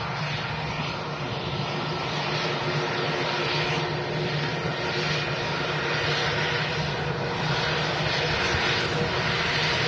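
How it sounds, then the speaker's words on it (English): A British Airways Airbus A320 with sharklet wingtips and IAE engines touches down at Manchester Airport, a steady broad jet roar heard from a distance that holds fairly even throughout, with no talking. "BA just touching down, A320 with the Sharklets"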